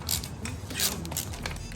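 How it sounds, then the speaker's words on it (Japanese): A creaky, corrosion-seized bolt being turned out of the undercowl stay on a Honda Grom JC92 motorcycle, giving a close, continuous grinding squeak with ratchet-like clicks and scraping metal throughout. "うわ、めっちゃギシギシやな、このボルト。"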